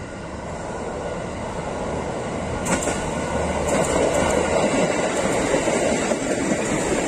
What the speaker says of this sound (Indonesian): sekarang kita fokus ke rangkaian KRL-nya yang akan melintas